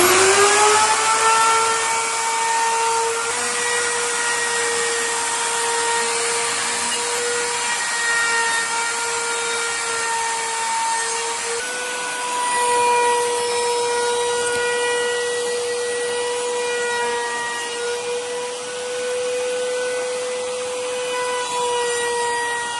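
A power cutter slices wood pieces for the sides, back and front of a bag drawer, giving a steady, close, high-pitched motor whine that holds for over twenty seconds with slight shifts in pitch.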